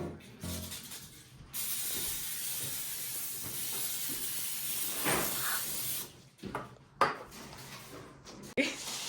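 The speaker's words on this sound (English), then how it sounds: "Now we're going to spray our pan with some oil." A long, even hiss of aerosol oil spray coating a baking pan runs for several seconds, followed by light clinks and knocks of the metal pan.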